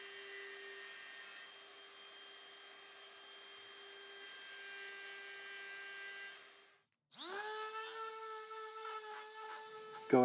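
Router spinning up and cutting a quarter-inch roundover on the edge of a wooden candy jar base, a steady high whine that drops briefly and then takes on a rougher cutting tone, loud and near with no speech.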